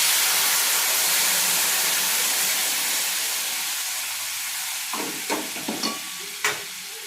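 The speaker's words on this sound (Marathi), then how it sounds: "हे गरम केलेलं पाणी घालून घेऊया." Loud, hissing sizzle as hot water hits a hot pan of semolina upma, slowly settling down, followed by a few clattering stirs of a spoon.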